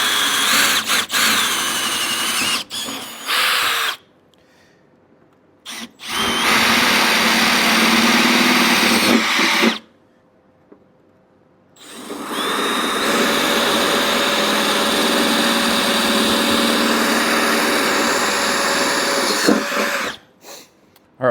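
A handheld drill bores holes in metal during a corner armor installation on a vehicle, running in several loud, close bursts with a steady high whine, separated by short silent pauses, no voices.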